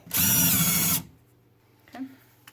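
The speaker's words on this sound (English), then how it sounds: "now I'm just going to unscrew the top two screws" A power screwdriver or drill runs in one steady whir lasting about a second while backing out the top screws of a Legrand motion light outlet, followed by a couple of faint clicks and handling taps, close by.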